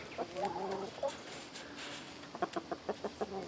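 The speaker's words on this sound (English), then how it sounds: "got second breakfast for the chickens." Chickens cluck repeatedly at feeding time, a run of short rhythmic clucks and calls from a few birds close by, fairly quiet with no talking.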